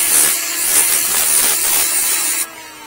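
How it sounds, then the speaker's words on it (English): A power sander runs on a wooden timber frame brace, a loud, close, steady high whir with rough grinding that stops abruptly just before the end. "Grab the sander."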